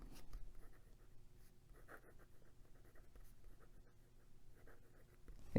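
Pilot Metropolitan fountain pen with a medium nib scratching across paper, a close, quiet run of short strokes in an irregular rhythm, with no voices.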